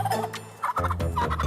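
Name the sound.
chicken attacking police officer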